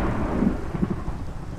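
Rain and thunder in Minecraft Java Edition: a steady, dense wash of rainfall with low, rolling rumbles of thunder swelling underneath, continuous throughout with no talking.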